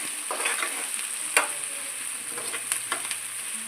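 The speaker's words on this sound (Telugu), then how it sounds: "ఉల్లిపాయలు మగ్గనివ్వాలి ఆయిల్లో. నేనైతే హై ఫ్లేమ్లోనే పెట్టి మగ్గనిస్తాను." Onions, green chillies, coriander and mint frying in oil over a high flame, a steady bright sizzle with a few sharp spoon clicks and scrapes against the pan, close and continuous.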